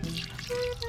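Water splashes and trickles into a pot of spicy crispy pork adobo cooking outdoors, a short, close, bubbly pour with a brief higher drip at the end.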